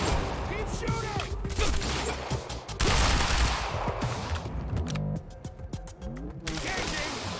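Rapid video-game gunfire crackles in dense bursts and sustained automatic volleys, with loud battle noise throughout and people talking excitedly over the shooting.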